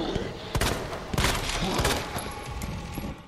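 Gunfire in Resident Evil 2 Remake during Leon's playthrough in a parking lot: several loud, sharp shots in quick succession, with a voice talking faintly underneath.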